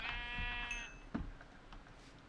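A sheep in the Minecraft video game gives one drawn-out bleat at the start, clear and close, followed by a short thump and quiet game ambience.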